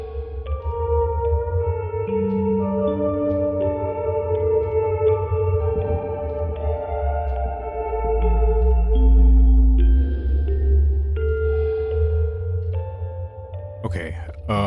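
Music box melody played on a piano in the horror game Fatal Frame: Mask of the Lunar Eclipse, slow sustained notes over a low ambient drone, with a sharp noise burst near the end.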